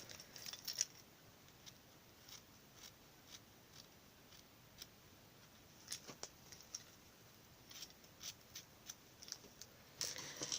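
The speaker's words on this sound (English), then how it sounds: "once you're happy with your bow, you can snip off the ends" Scissors snipping off the ends of a ribbon bow on a handmade Valentine's card, a series of soft, close, scattered clicks and snips in a quiet room, with a slightly louder cluster at the end.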